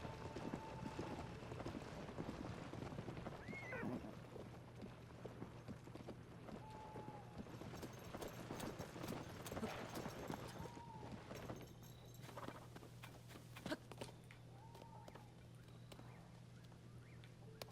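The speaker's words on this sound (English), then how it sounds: "I have to ride the horse" Rhythmic clip-clop of horse hooves in The Legend of Zelda: Tears of the Kingdom, over a steady low hum, with a few short tonal calls and bursts of rustling noise.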